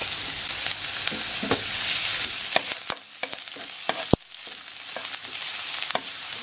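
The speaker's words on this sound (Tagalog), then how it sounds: "Lagyan na natin yung garlic. Hintayin lang natin mag-brown yung garlic." Garlic fries in hot oil for sardines with spinach, a loud continuous sizzle and crackle up close, broken by a few sharp clicks and scrapes of stirring.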